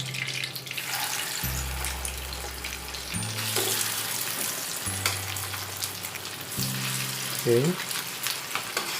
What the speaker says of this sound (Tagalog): And then, we will pan fry the rest.